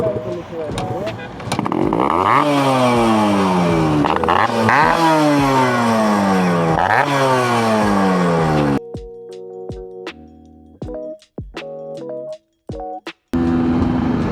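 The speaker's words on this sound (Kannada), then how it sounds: "ಗೇರ್ ಟ್ಯಾಪಿಂಗು ಅಷ್ಟೇ ಸೇಮ್ ಮಾಡ್ತಾ ಇದ್ದೀರಿ" Motorcycle revving hard close by, engine pitch repeatedly climbing and dropping as gears are tapped through, then a series of short sharp throttle blips separated by near silence.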